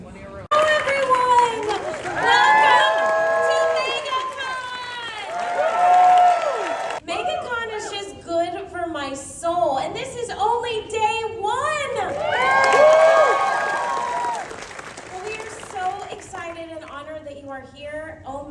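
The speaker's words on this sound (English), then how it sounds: "this is such a big crowd for a Thursday" A large crowd at a Clone Wars panel at Megacon Orlando cheers and shouts in loud, rising waves, with a pause in the middle. Voices talk close by between the bursts of cheering.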